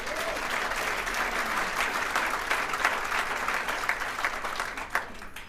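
Sustained audience applause at a political event in Washington, D.C., with dense steady clapping filling the whole stretch, fairly near and continuous with a few sharper claps toward the end.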